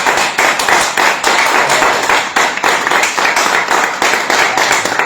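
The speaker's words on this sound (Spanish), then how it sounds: "Te vamos a dar un aplauso muy fuerte" A conference audience gives a round of applause, dense close clapping from a room of people with a slightly uneven, pulsing rhythm for several seconds.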